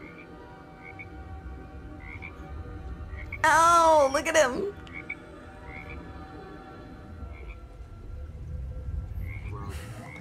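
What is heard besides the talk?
frog croaking in The Book of Boba Fett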